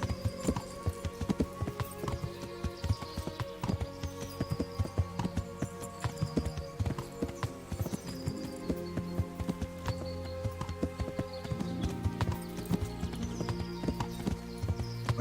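Horse hooves clip-clop steadily along a winding forest road in Kingdom Come: Deliverance, a continuous rhythmic patter of close, moderately loud footfalls over ambient game sound.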